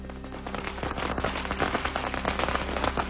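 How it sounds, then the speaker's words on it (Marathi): Firecrackers burst at a street celebration at a chowk in Nagpur, a dense rapid chain of cracks and pops, loud and continuous, with a faint whistle above the noise. "भारतमाता चौकात फटाके फोडून जल्लोष साजरा"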